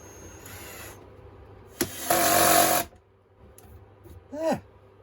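Cordless screwdriver driving new screws into a wooden guitar 4x12 speaker cabinet, a short whirring burst and then a brief descending whine, with handling rustle and quiet gaps between.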